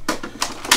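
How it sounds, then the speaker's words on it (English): Side catches on a vintage portable IBM PC XT click open, a few short, close plastic-and-metal snaps spaced unevenly across less than a second. "Got two catches on the sides here that just release the top."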